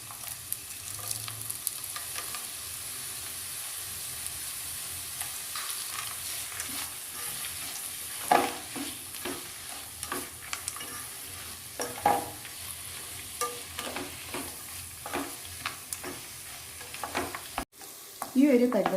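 Peanuts are stirred into broken wheat upma in a pan, with continuous sizzling and repeated scraping strokes of a spoon that grow louder and more frequent toward the end, with no voice.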